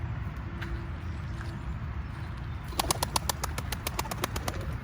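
Pigeons flap their wings as they are chased into flight outdoors, a quick run of rhythmic wingbeats rising over steady background noise, close and fairly clear.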